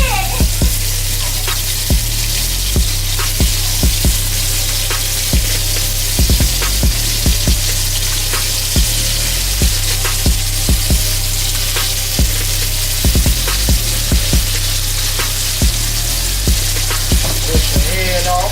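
Food dropped into hot grease fries with a loud, steady sizzle and crackle, broken by frequent sharp pops and spits throughout.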